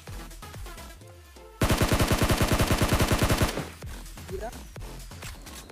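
Rapid automatic gunfire in PUBG Mobile rattles off in one loud, dense burst of about two seconds, with game ambience and scattered in-game sounds before and after.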